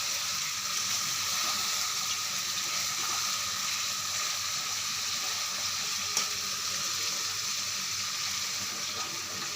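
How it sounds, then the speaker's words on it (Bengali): Water pours steadily into a cooking pot of spices being mixed for a home-cooked Bengali dish, a continuous soft rushing splash with no talk over it. "এখানটা একটু জল দিয়ে দিলাম।"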